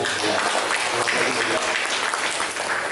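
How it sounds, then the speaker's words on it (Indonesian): Guests at a formal interfaith community forum in Bekasi, Indonesia, give a sustained round of applause, a thick, steady crackle of many hands at close range, with a voice faintly audible underneath. "Tepuk tangan buat beliau."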